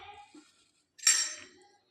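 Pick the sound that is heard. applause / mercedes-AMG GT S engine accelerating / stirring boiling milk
stirring boiling milk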